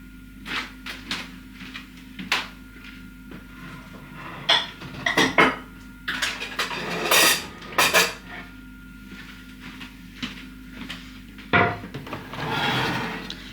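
A wooden chopping board is handled amid kitchen clatter: knocks, scrapes and clinks of utensils in irregular bursts, close by.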